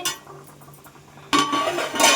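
A small metal box is set into a wok for steaming poppy-seed eggs, with a few light metallic clinks and then a louder scraping clatter of metal on metal that carries through to the end.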